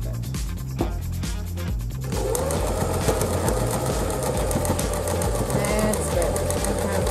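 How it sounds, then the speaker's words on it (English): A sewing machine runs steadily while top stitching around the edge of a fabric face mask, a continuous close mechanical whir that starts after a brief pause, with a voice speaking briefly over it. "do a top stitch all around the mask bit"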